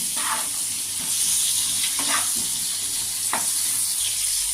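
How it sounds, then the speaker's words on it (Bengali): Pointed gourd (potol) frying in hot oil with turmeric, a steady close sizzle with a few soft stirring scrapes and spatula knocks throughout, no talking. "একটু লালচে লালচে করে পটলগুলো ভেজে উঠিয়ে রাখবো"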